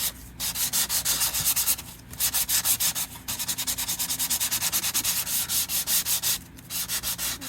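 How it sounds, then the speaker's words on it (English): Rapid back-and-forth sandpaper strokes scrape wood in a steady rhythm, loud and close, pausing briefly a few times before resuming. "I'm going to take a little bit of sanding paper or a sander and sand this down a little bit"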